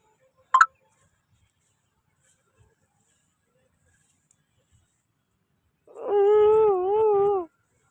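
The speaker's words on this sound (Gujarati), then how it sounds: "અહીંયા નાના નાના ગલુડિયા છે" Small puppies in a garden, with one short yelp near the start, then a long wavering howl-like whimper rising near the end, close and otherwise quiet.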